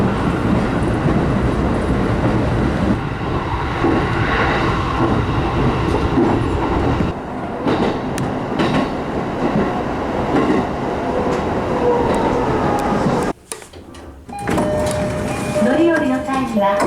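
A train in a station at Hinohara, Japan, rumbling loudly and steadily with rail noise and clatter, a brief quiet gap near the end before the station din returns, with people talking underneath.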